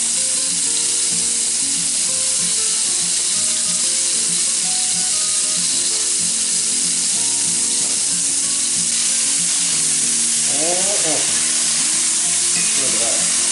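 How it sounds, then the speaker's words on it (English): Breaded venison cube steak browns in a hot skillet, a loud, constant sizzle and crackle, with faint tonal background sounds and a few scraping stirs near the end. "we're gonna put it in this skillet. We're gonna brown it off"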